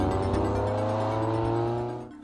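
A Ferrari 355 F1 fires up close by: a rich, harmonic engine roar that holds steady for about two seconds before quickly falling away.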